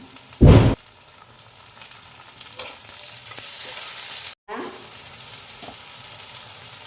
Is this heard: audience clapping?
no